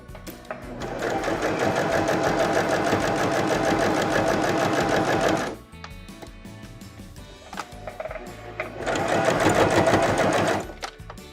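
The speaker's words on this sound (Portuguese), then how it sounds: "ele já começou a costurar o meu barrado" A sewing machine stitching the hem of a dish towel runs in two long, steady bursts of rapid mechanical stitching, separated by a short, quieter pause, close and loud with no voice.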